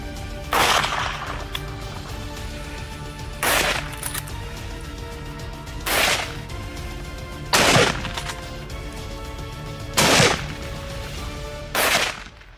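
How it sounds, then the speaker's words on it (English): Rifle shots from a wild boar hunt crack out one at a time, six sharp loud reports spaced a couple of seconds apart, each ringing briefly before the next. "Hunting wild boars with rifles"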